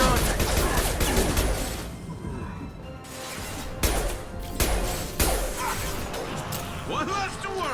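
Heavy gunfire in Mass Effect 2 Legendary Edition, dense bursts with crashes, whooshes and impact bangs, fairly loud and continuous. Game voices talk over the shooting.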